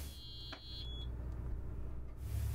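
An electronic alarm on a boat in a lock on the Oise gives a steady high-pitched tone for about a second before stopping, faint over a low engine rumble.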